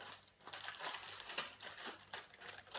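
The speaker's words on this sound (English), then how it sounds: "I find it easier to remove them and put them in a plastic bag" Homemade disinfectant hand wipes being stuffed into a plastic bag, giving quiet, close crinkling and rustling in irregular bursts, with no talking.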